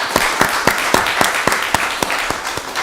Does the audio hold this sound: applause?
yes